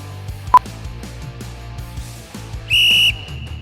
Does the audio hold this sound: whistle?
yes